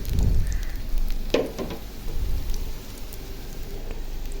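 Onions fry in a pan for a coriander leaf bhorta, giving a steady close sizzle and crackle with a few louder pops and spits near the start.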